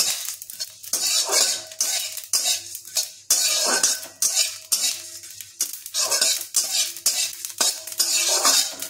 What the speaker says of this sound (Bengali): এটা গরম করে শুকনো খোলায় নাড়াচাড়া করে নেবো আমরা।